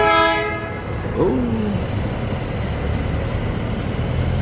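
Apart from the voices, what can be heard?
train passing nearby with horn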